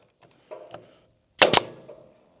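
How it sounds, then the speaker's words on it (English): A brad nailer fires nails into a wooden weasel trap box, giving two sharp, loud pops close together with a short ring afterward, preceded by a few softer handling knocks. "we'll go ahead and shoot this sucker on with some brad nails"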